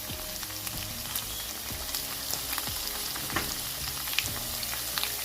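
Potatoes and onions for home fries sizzle steadily in a pan, a dense close crackle with scattered pops and occasional spoon scrapes, no voices.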